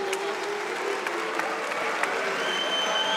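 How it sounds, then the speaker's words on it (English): An arena crowd at a GLORY 66 kickboxing event boos fighter Stoyan Koprivlenski, a dense and sustained wash of crowd noise that fills the hall evenly without pause. "The fans are booing Koprivlenski"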